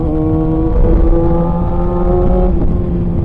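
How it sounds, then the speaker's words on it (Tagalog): A Kawasaki ZX6R motorcycle engine revs loudly and close by, holding a steady high-pitched whine with slight rises before easing off near the end. "At maingay pa rin yung motor."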